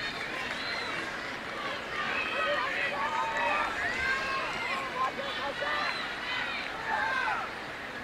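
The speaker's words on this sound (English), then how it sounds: "Good crowd on hand." A sellout crowd at a 2022 NCAA Women's College Cup soccer semifinal between UNC and Florida State fills the stadium with steady babble, shouts and cheers, voices rising and falling over a constant crowd murmur.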